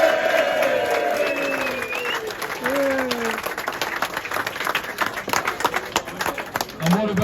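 Crowd applause and cheering at a Rotherham Titans rugby match at Clifton Lane, welcoming visiting side Fylde; sustained clapping from a large gathering fills the whole stretch, with a loud PA voice speaking over it.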